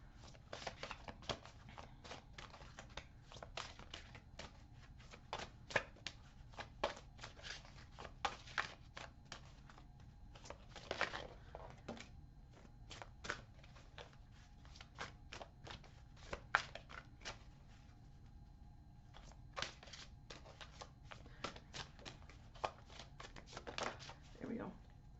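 Oracle cards are shuffled over and over in a long, steady, quiet run of fast papery riffles and flicks, with a voice talking softly at times.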